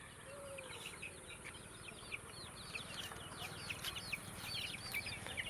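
Country chickens on a village poultry farm, a flock clucking and chirping in quick, scattered calls at a moderate distance over a constant background hum.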